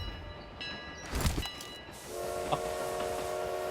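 Train in PUBG Mobile rolling past with sustained steady horn or whistle tones, a louder burst midway, then a lower held whistle chord, moderately loud with no talk.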